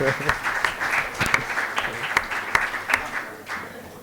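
Audience at an event clapping, an uneven patter with several sharper claps standing out, and voices talking underneath.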